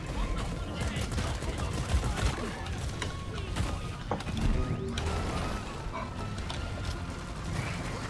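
Rapid gunfire and blasts from a grenade explosion in the Deep Rock Galactic video game, dense and continuous with sharp cracks throughout, while players talk over the action.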